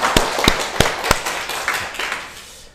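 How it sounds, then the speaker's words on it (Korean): Short burst of clapping from a church congregation, sharp individual claps standing out, fading off after a couple of seconds. "하나님께 영광의 박수를 한번 달려드리겠습니다"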